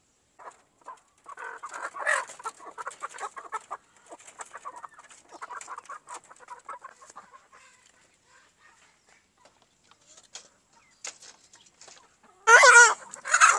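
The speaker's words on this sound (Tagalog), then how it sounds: "Ganito naman ang sample ng isang upgraded native chicken." Heritage and native chickens, including an upgraded native cross of Black Australorp and pure native stock, cluck in short irregular bursts nearby. A loud squawk or crow rises near the end.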